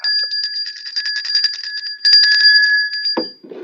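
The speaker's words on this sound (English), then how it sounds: "Give Vincent Croce a bell ring." A small bell rung rapidly on a radio show, a bright sustained metallic jingle of quick repeated strikes that runs for a few seconds, then stops with a short thud at the end.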